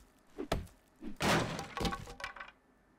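Several hard thunks and cracking breaks as a wooden box is smashed open in the survival game 7 Days to Die, a quick pair of strikes followed by a louder splintering burst and a few trailing knocks, close and fairly loud.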